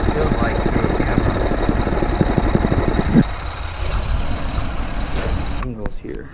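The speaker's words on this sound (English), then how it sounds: "I can totally hear the misfire." A 1999 Lexus ES300 with 68k miles runs with an engine misfire, giving a loud, close, rough idle with an uneven knocking pulse. The rumble eases near the end, where a few clicks and handling noises take over.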